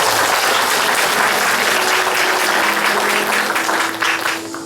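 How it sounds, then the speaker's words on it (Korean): A church congregation applauds together during a Thanksgiving worship service, dense, loud clapping filling the room for several seconds and fading slightly at the end. "우리에게 추수감사절 예배를 드리게 하신 우리 하나님께 먼저 영광의 박수를 올려드리겠습니다."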